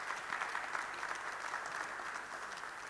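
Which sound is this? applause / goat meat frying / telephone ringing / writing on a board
applause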